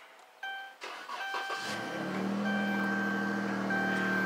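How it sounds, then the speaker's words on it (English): A V6 car engine cranks and catches after a few clicks, then settles into a steady, even exhaust note at idle, heard alone and fairly quiet. "Let's see if we can't get a nice exhaust note here."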